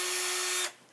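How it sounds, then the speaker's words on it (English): A handheld power drill whines at a steady high pitch for a moment, close and loud, then cuts off abruptly and spins down. "How about if I needed to drill a hole? Well, sure, I'd need my drill."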